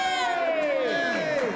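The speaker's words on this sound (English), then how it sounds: "The news conference began with a cheer." A small crowd at a Salt Lake City news conference on Olympic bid city candidacy whoops and cheers at close range, with one bright falling cry standing out across the short burst.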